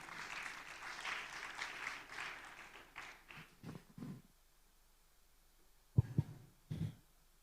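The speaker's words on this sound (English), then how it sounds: "let's give a round of applause to Pak Diki" An audience at an international conference in Indonesia gives a speaker a round of applause, a fairly faint wash of clapping that fades out after about four seconds, followed by a few isolated soft thumps.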